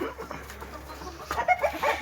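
Chickens cluck softly inside a coop, a few short quiet clucks and murmurs scattered over faint background noise, with a slightly louder burst of calls near the end.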